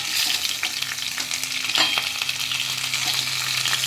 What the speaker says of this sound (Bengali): মাছের মাথাগুলো আমার দেখো লাল লাল করে একদম ভাজা হয়ে গেছে।